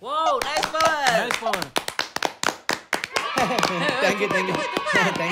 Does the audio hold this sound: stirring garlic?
no